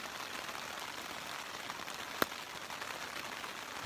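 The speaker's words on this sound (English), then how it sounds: "Raining" Steady, even hiss of rain falling on a surface, with a single brief click partway through.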